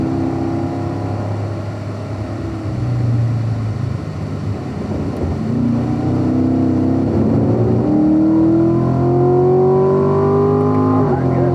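A Chevrolet Corvette Stingray accelerates around a race track, its engine droning loud and close under a voice, then revving up in rising pitch through the gears toward the end.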